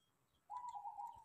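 A single zebra dove (perkutut) gives one sustained, steady cooing note, fairly faint and close, against quiet background noise.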